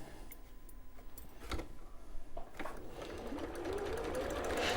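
A sewing machine stitching a 1/4 inch seam on quilt fabric, its rapid mechanical whir building steadily after a few soft clicks, close and alone.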